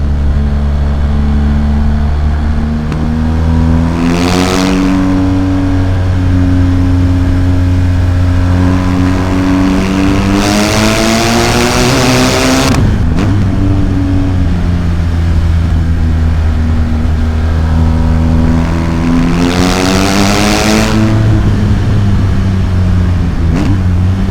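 A BMW R 1250 GS Adventure boxer engine with an Akrapovic exhaust idles with a deep, steady rumble, broken by three loud throttle blips that rise sharply and fall back, heard close with no talking.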